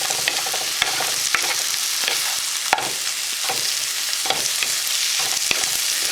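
Onion and breaded chicken sauté in a pan, giving a steady close sizzle broken by several sharp clicks of stirring, with no talking.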